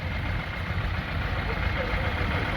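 A vintage carnival tractor idles at a vintage show, producing a low, steady engine chug close by, while a voice talks over it.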